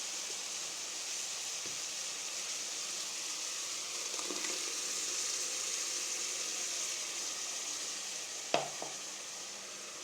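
Ginger garlic paste fries in sesame oil with chili powder for a mutton kolambu, a steady close sizzle running throughout with a couple of faint stirring taps and one sharp clink near the end.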